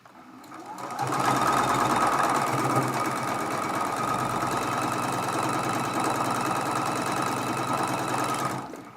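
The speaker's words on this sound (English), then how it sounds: "Match up that raw edge and sew that seam." Sewing machine stitching a quilt block seam from charm pack fabric, a continuous close mechanical hum running steadily for about seven seconds before stopping, no voices.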